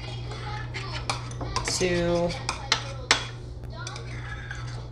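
Herbal shampoo mixture being stirred in a bowl, with a utensil clinking and scraping against the sides in several sharp knocks and a longer rattling stretch, close up over a steady low hum with brief speech.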